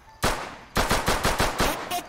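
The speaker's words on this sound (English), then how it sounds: "Stop fucking shooting me!" Automatic gunfire in an Arma milsim game: a loud opening shot, then a rapid string of close, punchy bursts about every quarter second, with no speech over it.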